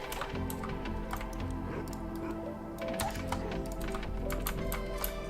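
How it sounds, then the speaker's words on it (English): Rapid, irregular clicking of a computer keyboard runs continuously at a soft, steady level during a Minecraft Hardcore live stream, with no one speaking. "How loud does my keyboard sound in the stream, by the way?"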